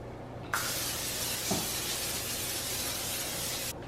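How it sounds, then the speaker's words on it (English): A steady aerosol spray from a can of Pam olive oil cooking spray hisses close by for about three seconds, starting and stopping abruptly, with a faint clunk partway through. "Give it a good spray. I'm using Pam, like the olive oil edition."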